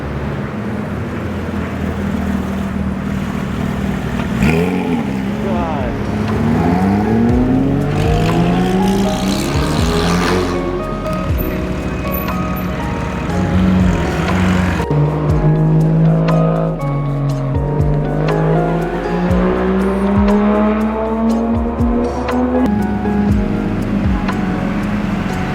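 Cars driving in and out of the entrance of a busy car meet in Japan, loud engines revving and sweeping in pitch as they pull past one after another, close by, with no talk.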